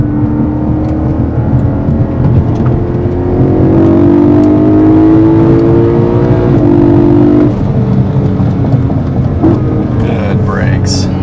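A 1977 Porsche 911 S on a test drive: the engine drones loudly, its tone climbing steadily as the car accelerates, then eases off, with the constant hum of the cabin around it.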